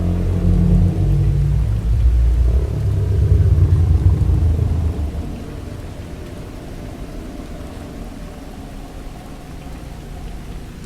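Steady rain with deep rolling thunder, a heavy low rumble dominating the first five seconds before easing into a softer continuous hiss of rainfall.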